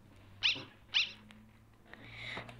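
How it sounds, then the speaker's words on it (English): Short electronic dog barks from a dog in the game Undertale, two quick yips close together followed by a longer rising whine over a soft, steady game music drone. "It's a dog."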